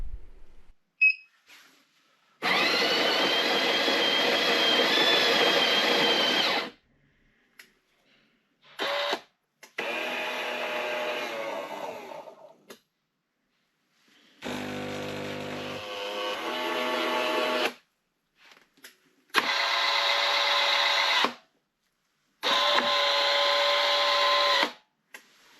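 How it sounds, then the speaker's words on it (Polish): A reassembled MK Café Barista espresso machine, opened up for cleaning, runs in a test: its pump buzzes loudly in about five separate bursts of several seconds each, with short silences between them and no talking. "sprawdzę, jak funkcjonuje ekspres, czy nic nie wycieka,"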